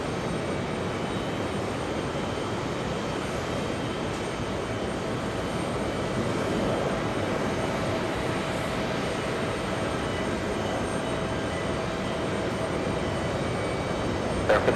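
A Delta Airlines A330 jet takes off at JFK, heard as a distant, steady, broadband engine roar that stays fairly even throughout without a clear peak.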